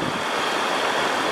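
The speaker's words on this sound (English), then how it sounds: "There's a little bit of wind as well, so I apologize for that." Strong wind gusts roar across the microphone beside a river in Eastern Oregon, a loud, dense, unbroken rush filling the whole moment with no voices.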